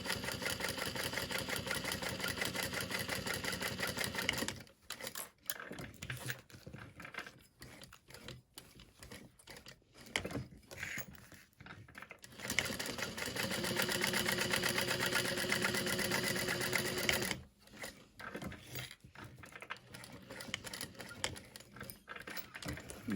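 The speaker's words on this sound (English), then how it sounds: "I'm just gonna sew like 1/8 of an inch from the edge of those card slots." A sewing machine stitches along the card slots of a handmade wallet, running in long mechanical whirring bursts with brief stops and restarts in between, steady and close.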